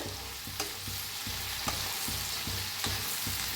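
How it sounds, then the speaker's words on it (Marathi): Okra (bhindi) fries in a pan with turmeric for masala bhindi, a constant dense sizzle broken by regular stirring scrapes about every half second, close and loud with no talking. "टाकूया भेंडी भेंडीला छान असं भाजून घेऊया"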